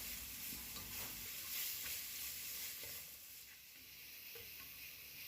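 Crushed shallots and curry leaves fry in oil for a chicken dish, giving a faint, steady sizzle with soft stirring scrapes throughout that eases slightly partway through.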